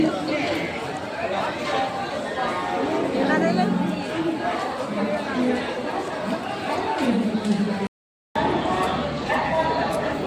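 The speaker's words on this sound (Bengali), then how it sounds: "প্ল্যাটফর্মে আছে প্রচুর ভিড়" Dense crowd chatter fills a crowded railway platform, many overlapping voices nearby with a constant busy murmur and brief footstep-like knocks.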